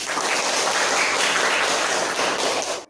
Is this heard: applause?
yes